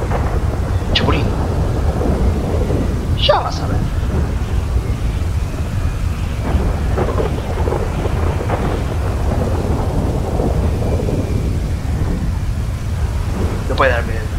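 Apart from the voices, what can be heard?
thunderstorm with rain, from the video game GTA V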